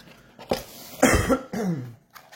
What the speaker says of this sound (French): Je suis désolé si je tousse un peu